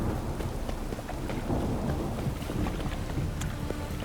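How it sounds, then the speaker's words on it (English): Rain falls steadily in The Witcher 3 game world, a dense continuous hiss with low rumbling underneath that suggests distant thunder, with no voices. "Rains and rains."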